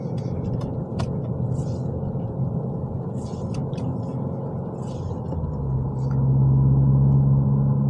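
A 2022 Subaru WRX on Blizzak WS90 winter tires drives over snow, its engine a low steady rumble inside the cabin with a few faint clicks, swelling louder and deeper near the end as throttle is added.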